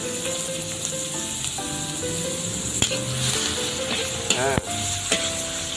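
Chopped onion sizzles steadily in hot oil and margarine in a pan, with occasional clinks and stirring sounds and faint background music throughout.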